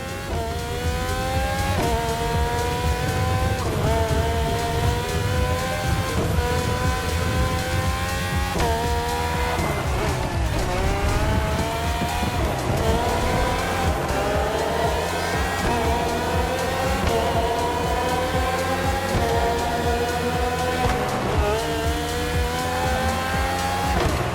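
Red Bull Formula 1 cars, the RB13, RB14, RB18 and RB20 with Renault and Honda engines, race in The Crew Motorfest. Loud, high engine whines climb in pitch again and again through rapid gear shifts, with no pauses.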